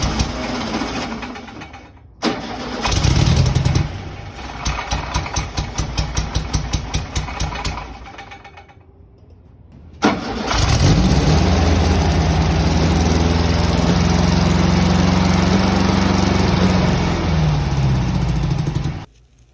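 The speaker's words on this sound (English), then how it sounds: "we wanted to make sure the engine was running well" A Volkswagen Beetle's small air-cooled engine in a Baja Bug cranks and sputters, stalls briefly, then starts and runs at a loud, steady, rumbling idle until the end.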